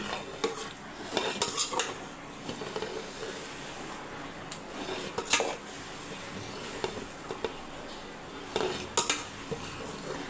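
A ladle scoops cooked coconut milk rice onto a plate, making repeated metallic clinks and scrapes against the dish in a few separate bursts, close and fairly clear.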